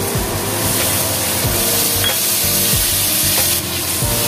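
Ginger, onion and garlic fry in hot oil as cumin-coriander paste is added, giving a loud, steady sizzle close by, with scraping and stirring strokes from the pan.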